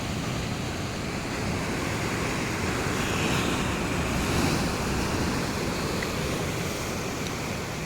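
Surf at Someshwar beach, Ullal, rolls in as a steady wide rushing hiss, with wind noise on the microphone and a gentle swell in loudness midway.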